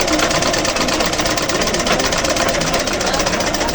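A sewing machine being repaired runs continuously while stitching cloth that feeds forward on its own, giving a steady, loud, fast mechanical whirring and rapid needle clatter close up, with someone speaking over it.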